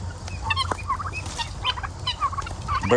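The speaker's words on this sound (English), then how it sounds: "Birds. Birds. Bird Army." Flock of turkeys gobbling in repeated bursts at a farm pen near a water station, several birds calling over one another at close range with steady low background rumble.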